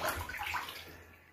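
Nikon 10x50 Action EX binoculars plunged into water during a waterproof test, a brief close splash and gurgle fading into quiet trickling.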